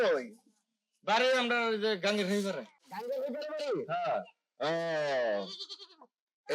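A goat bleats loudly several times up close, long wavering cries separated by short pauses.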